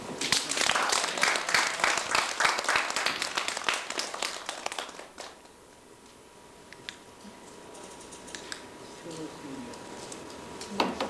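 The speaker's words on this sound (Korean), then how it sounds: "이렇게 박수 한번 쳐." An audience applauds loudly for about five seconds at the end of a 1994 slide lecture on Seokguram Grotto, then the clapping fades into a quieter room with scattered claps and faint voices.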